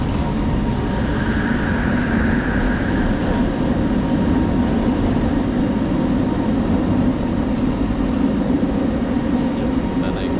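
Inside an LRT light rail train running from KL Sentral to KLCC in Kuala Lumpur, continuous low rolling rumble and hum of the carriage throughout, with speech intermittently over it.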